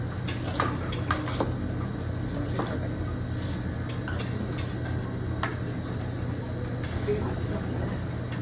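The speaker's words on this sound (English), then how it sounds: "make sure you stir it all the way in" A spoon stirs seasoned food in a bowl, giving faint scraping and light clinks spread across several seconds beneath a steady low hum, with some talking.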